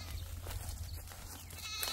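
Anglo-Nubian goats at a mountain sheepfold, heard as a faint, steady wash of distant animal sound with low rumble and no clear separate bleats.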